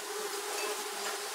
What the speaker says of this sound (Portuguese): Com a abertura que eu fiz da caixa aqui, vocês podem ver a movimentação das abelhas